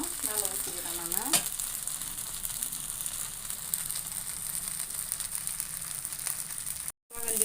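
Wheat adai fries in oil in a pan with a steady, close sizzle and crackle throughout and a brief stir or scrape near the start.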